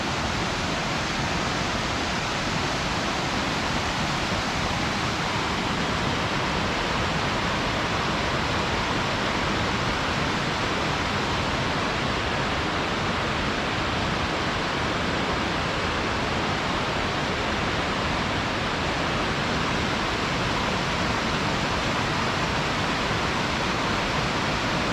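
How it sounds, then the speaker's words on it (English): A raging mountain river swollen with snowmelt roars below a trail overlook near North Bend, Washington, a loud, dense, unbroken rush of whitewater that fills the whole stretch with no voices. "And the river down there is raging."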